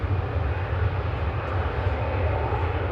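An EasyJet jet airliner taking off at Manchester Airport, a loud, steady low engine roar that fills the whole stretch without letup.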